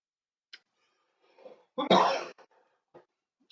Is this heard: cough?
yes